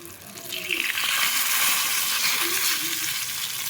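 Potato and bitter gourd frying in a pan on a stove: a steady, close hiss and crackle of sizzling oil that swells after the first second and holds at an even level, with no talk.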